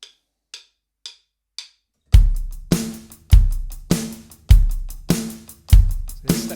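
A drum kit plays a triplet beat: four light cymbal ticks count in, then loud close kick and snare hits with a ringing cymbal wash, looping in a rolling three-part rhythm.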